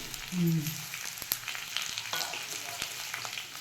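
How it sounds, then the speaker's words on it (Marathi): Cashews and almonds sauté in ghee with sweet potato slices in a pan, giving a soft, steady sizzle. A brief stirring scrape and clink are heard up close at a moderate level. "मस्त काजू बदाम टाकूया काजू बदाम टाकले छान छानपैकी आता परतून घ्यायचं"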